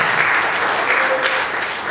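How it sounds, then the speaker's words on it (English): An audience applauding at a university talk on Black history, a full steady roar of clapping that stays loud and even from start to finish. "Let's give him a round of applause one more time."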